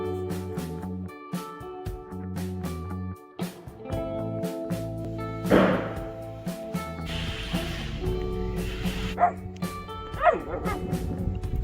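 Puppies bark and yip repeatedly at an off-grid homestead, the short barks close and fairly loud amid a busy mix of other outdoor sounds, with some faint talk.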